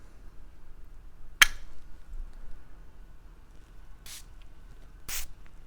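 A perfume bottle sprays in a few short, crisp hissing bursts, one sharp spritz followed by two more a few seconds apart, close by in a quiet room.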